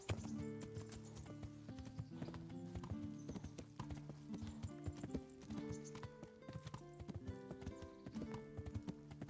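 Horse hooves clip-clopping in a steady galloping rhythm while riding in the medieval video game Kingdom Come: Deliverance, with faint harness jingles, continuous and fairly close, with no talk over it.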